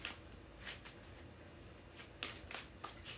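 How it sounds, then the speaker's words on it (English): Tarot cards shuffled by hand, a soft continuous riffling with repeated brighter flicks and snaps scattered through, close and fairly quiet, no talking. "I'm going to do 3 more shuffles for the Libra collective"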